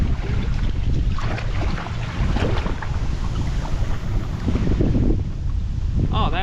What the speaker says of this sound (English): that wind's whipping